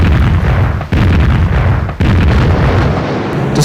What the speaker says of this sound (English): A heavy naval bombardment provided by 6 battleships and 18 cruisers preceded the